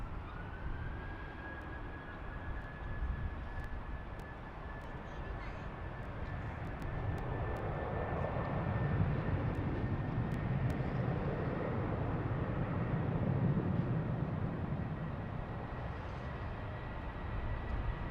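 An airliner rolls for takeoff on runway 16 right at Sydney Airport, a distant engine rumble swelling gradually and then sustaining, with a thin steady whine above it.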